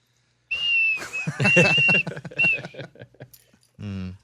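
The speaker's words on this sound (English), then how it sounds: "It's a sad little whistle there." A high, wavering whistle sounds in a few short phrases over a person talking, with a brief hum near the end.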